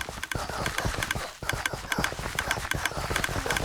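Horses in the Minecraft video game clip-clop steadily as a quick, even run of hoof knocks over a busy game-sound background, heard without anyone speaking.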